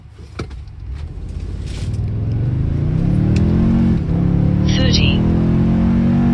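A Toyota Tundra 3.4-liter twin-turbo V6 truck accelerating hard from a standstill to 60 mph, its engine drone climbing steadily through the gears as someone talks briefly at the start.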